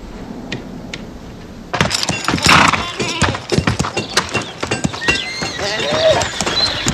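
A horse neighs and its hooves clip-clop on hard ground nearby, sharp irregular hoofbeats starting after a quiet opening, with a whinny and faint voices mixed in.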